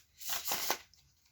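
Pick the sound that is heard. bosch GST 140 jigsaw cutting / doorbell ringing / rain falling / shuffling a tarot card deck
shuffling a tarot card deck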